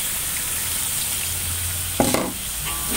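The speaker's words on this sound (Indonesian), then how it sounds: "kita masukkan cabai yang sudah kita blender." Blended chilli paste poured into hot oil with fried spice paste for a village-chicken dish, giving a sudden loud sizzle partway through that settles into steady frying crackle.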